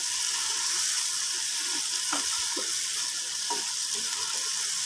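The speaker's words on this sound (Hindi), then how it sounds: "तो भिंडी ऐड कर दी है, तो इसे अब हम मिक्स कर लेंगे।" Okra frying with masala in a pan gives a steady, close hissing sizzle, with a few soft scraping stirs of a spoon breaking through the constant frying noise.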